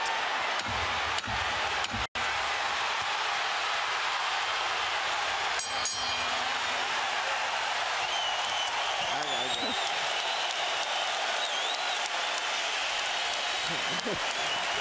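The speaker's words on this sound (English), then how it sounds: "As the crowd stands en masse to applaud, Emmanuel Stewart stands and applauds with them." A boxing crowd at the Gatti vs Ward III fight applauds en masse, a broad, steady roar of arena clapping and cheering with a few sharp knocks and faint whistle-like tones scattered through it.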